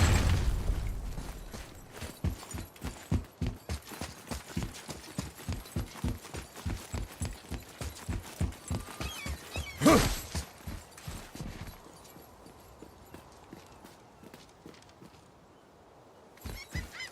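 Horse hooves clip-clop in the God of War video game, a steady, rapid run of sharp, evenly spaced hoof beats that continues for several seconds, then slows and fades, with a loud thump midway.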